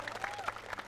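Scattered clapping rises from a school audience at a Malay performance event, fairly soft and patchy, with a few sharper hand strikes poking through a murmuring background of voices.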